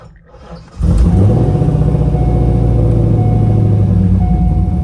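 A Chevrolet C5 Corvette starts moving after a transmission fluid change, its engine rising to a steady, loud, close drone with a revving rise near the start and no talking.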